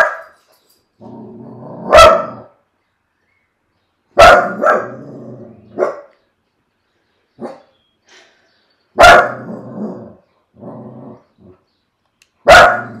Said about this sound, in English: Sorry, I own a dog and he's getting very barky.